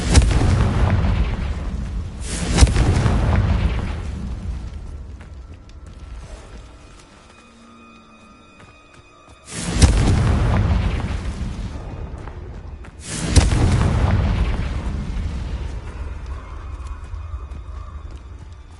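Blasting-spell explosions from the Hogwarts Legacy video game: several loud, booming bursts roughly three seconds apart, each followed by a rumbling decay, with a quieter lull in the middle.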